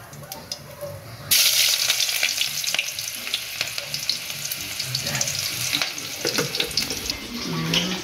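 Sliced onion hits hot oil in a pan for fish curry, a sudden loud sizzle starting about a second in and holding steady, with occasional scrapes and clinks of stirring.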